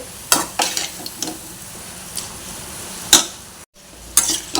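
Potatoes and prawns cooking in a masala in a pan, with a soft continuous sizzle and several sharp scraping knocks of a spoon stirring the pot, spaced irregularly, and a brief silent gap near the end.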